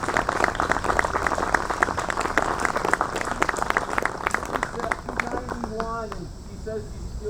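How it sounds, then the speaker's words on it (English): Crowd at an outdoor statue dedication ceremony for a basketball Hall of Famer clapping to welcome a guest, sustained applause with distinct sharp claps, easing off as a voice begins speaking over the tail. "Let's welcome her, please, with a warm round of applause."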